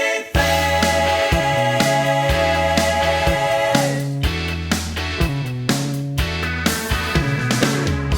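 A song plays loud and full, with punchy bass and drums pulsing in a steady rhythm under bright guitar and a vocal line.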